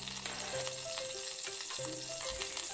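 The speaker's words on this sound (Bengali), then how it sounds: "ঘি দিলাম এরপরে শুকনো গরম মশলাগুলো ফোড়নে দিয়ে দিচ্ছি ছোট এলাচ বড় এলাচ দারচিনি লবঙ্গ আর তেজপাতা" Whole cardamom, black cardamom, cinnamon, cloves and bay leaf frying in ghee for hilsa dum pulao, a steady dense sizzle under quiet background music with no speech.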